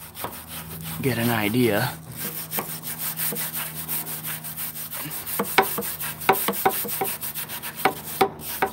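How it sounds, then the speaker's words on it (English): A wire brush scrubs gunk off metal before welding, a series of dry scraping strokes, steady at first and then sharper and more irregular, with a brief spoken phrase partway through. "don't mind me while I'm brushing this gunk off of the metal"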